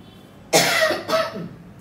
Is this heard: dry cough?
yes